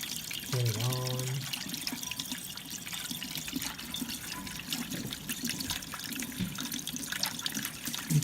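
Tap water runs through a Dyson V10 vacuum's air filter, a steady broadband splashing and rushing that carries on throughout at moderate loudness, with a brief voice or tonal sound near the start.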